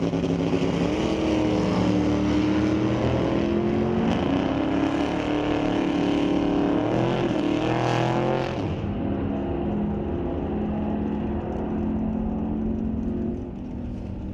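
Two drag cars, a 1962 Chevy II and a purple Mopar, launch and race down the strip at Mission Raceway Park in an ET bracket event, engines roaring loud and steady before fading into distance.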